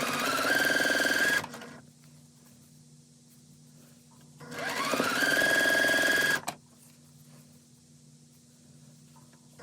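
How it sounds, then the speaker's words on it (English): A sewing machine stitches quilt pieces in two steady whirring runs of about a second and a half to two seconds each, close by, with quiet pauses between. "send the pairs back through our sewing machine"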